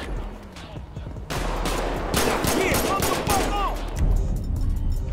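Rapid bursts of automatic gunfire and single shots in Grand Theft Auto V, dense overlapping volleys that grow louder and busier partway through, with voices talking over the shooting.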